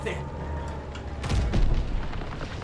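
Tank cannon blast in a Call of Duty WW2 battle, a single heavy boom with a rumbling tail amid combat noise, fairly loud.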